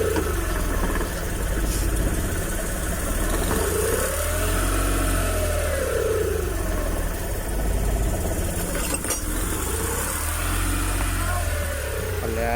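Suzuki F6A rear engine of a multicab running steadily and fairly loud, with a rough, uneven idle and revs that rise and fall twice, consistent with a misfire.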